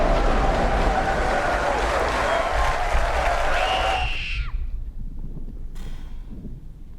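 Dense crowd applause with cheering from a scene in the film Oppenheimer, a steady wash of clapping that drops away after about four seconds and leaves a quieter room.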